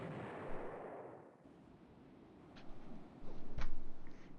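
Missiles striking ships in the naval strategy game Rule the Waves 3, heard as a low rolling boom that fades and then a few sharper blasts and cracks nearby.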